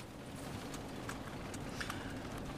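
Horse hooves clip-clop in a steady, fairly even rhythm against a constant background wash, moderately close with no talk over them.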